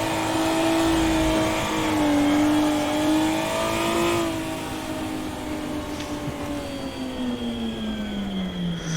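A car engine in a VR driving game revs and wavers while drifting, its loud sustained note rising and falling with throttle changes, then easing lower as the slide settles.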